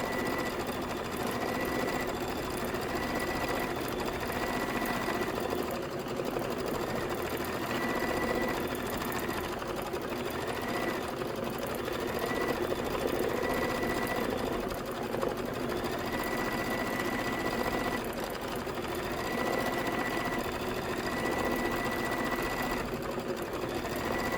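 A sewing machine stitches shamrock background quilting designs in a continuous, fast mechanical whirr that stays close and even throughout, with slight shifts in speed and no voices.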